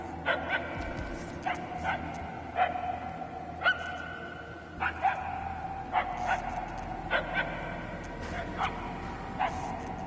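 Dog barking in the Guardians of the Galaxy video game, a string of short, fairly distant barks and yips spaced out at irregular intervals over a low background hum.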